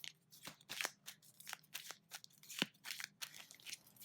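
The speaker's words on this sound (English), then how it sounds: "And then I'm going to give it a shuffle." A deck of tarot cards is shuffled in a quiet room, giving a soft, continuous run of papery riffles and slides, faint and close, with no talking.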